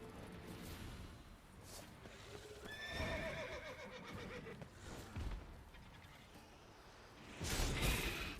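Roach, the horse in the video game Witcher 3, gallops with soft hoofbeats and lets out a loud, clear neigh midway, with whooshing game sounds around it and no voices.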